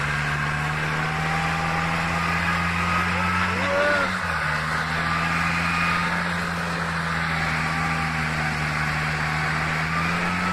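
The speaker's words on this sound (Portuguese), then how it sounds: "Um trator desatolando." A tractor engine strains steadily as it tries to pull free of mud, its loud, sustained droning hum holding near and constant with a brief pitch shift midway, while voices talk over it.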